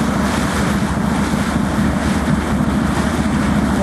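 A boat under way near the mouth of the Luga River at Ust-Luga, heading out toward the Gulf of Finland, with steady wind buffeting the microphone over a continuous rumble of water and engine throughout.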